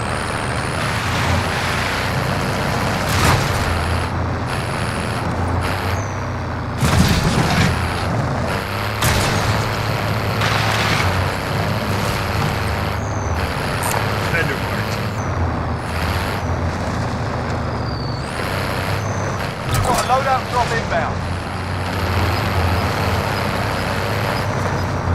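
A vehicle drives through a Warzone battle royale match, its engine rumbling steadily and loud for the whole stretch, with brief bangs and clatters rising over it.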